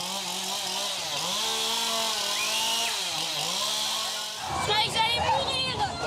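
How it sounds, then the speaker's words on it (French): A chainsaw engine drones and revs up and down in a funfair haunted attraction at the Fête des Loges, then cuts to a rougher, louder burst mixed with shouting and screams. "Avec cette fois, une tronçonneuse."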